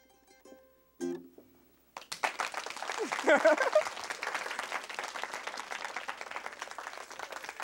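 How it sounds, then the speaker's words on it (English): Audience at a Black History Month event clapping hard after a brief lull, building into sustained, dense applause with scattered cheers and a voice heard early on. "y'all are going to clap a lot harder than that for me"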